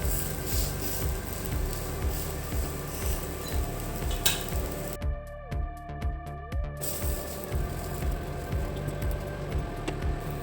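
Dal vada shallow frying in oil in a pan, a steady close sizzle that runs throughout, with faint clicks and stirring clatter; one stretch briefly turns noticeably quieter before the full sizzle returns.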